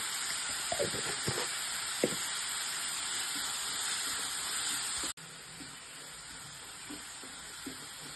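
Chopped onions sautéing in a hot pan while preparing stuffed squid, a steady broad hiss and sizzle throughout with a few soft clinks and scrapes of a spoon, the sizzle dropping slightly in level partway through.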